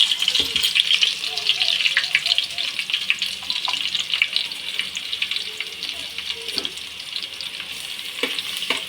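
Chopped garlic sizzles steadily in a generous amount of hot oil with cumin seeds, a continuous bright crackle and hiss close up, with a few faint clinks beneath.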